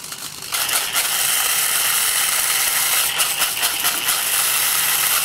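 Bamix hand blender grinding a spice mix in a lidded container, a loud, close, continuous high-pitched whirring and rattling that starts abruptly after a brief pause and runs steadily to the end.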